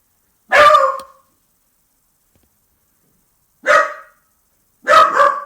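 A dog barks, a single sharp bark followed by a long pause and then two more barks close together. The barks are loud and near, and there is silence in between.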